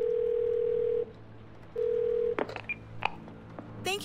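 Touch-tone phone dialing a health insurance number: a long steady tone, a pause, another tone, then a quick irregular series of short dial beeps at close range.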